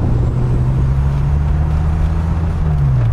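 A 1994 Dodge Viper's engine runs steadily while driving, a loud low drone with a slowly sliding pitch and constant wind rush, no talking.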